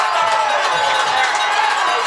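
A high school football crowd cheers loudly and steadily after a touchdown pass in the LC vs Washington-Wilkes game, a sustained roar of many voices filling the stands.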